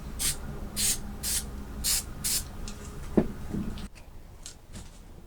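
Several short hissing bursts of aerosol spray adhesive in a steady rhythm, followed by a thump and a quieter final spritz.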